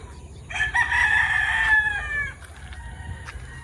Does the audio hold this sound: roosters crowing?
yes